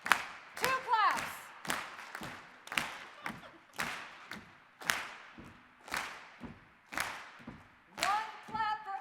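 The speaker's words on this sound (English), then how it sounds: "2 claps for every 4 steps." Sharp claps repeat in a steady, evenly spaced rhythm, with a voice speaking briefly at a couple of points between them.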